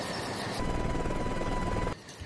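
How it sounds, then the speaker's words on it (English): A helicopter flies in fast during a nighttime military operation, its loud steady rotor thrum and engine whine filling the scene before dropping away abruptly near the end. "The helicopter comes in quickly"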